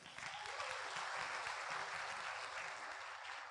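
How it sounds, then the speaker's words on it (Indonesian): Steady, even applause from an audience at a business seminar, a dense wash of clapping for an honored couple that holds throughout, moderately distant and without talk. "Mohon aplaus untuk pasangan luar biasa"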